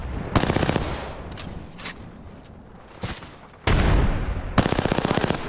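Video game gunfire crackles in loud bursts, a rapid automatic burst near the start, scattered single shots in the middle, then two long sustained bursts of machine-gun fire close up.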